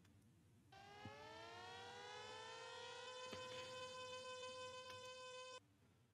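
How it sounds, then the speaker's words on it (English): A civil defense siren winds up and holds a steady, loud wailing tone for several seconds, then cuts off abruptly. "Let's listen to the siren."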